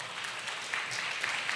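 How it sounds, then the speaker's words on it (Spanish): A church congregation, standing during a sermon, gives a dense, steady wash of applause that stays at an even level throughout, soft and somewhat distant, with no voices over it. "dele fuerte el aplauso al Señor"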